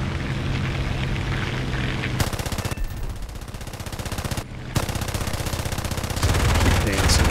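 Guns of a Gladiator Mk I biplane fire in War Thunder air combat in long rapid bursts over a steady engine drone, with a short pause between them, loud and close.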